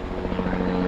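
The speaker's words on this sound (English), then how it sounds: "as the chopper flies around" A helicopter circles above a city, its rotor chop and engine drone steady and fairly loud, rising slightly over a brief moment with no talk.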